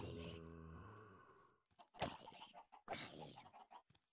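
Clucking chickens in a video game, a few short clucks scattered over a quiet background following a held tonal game sound.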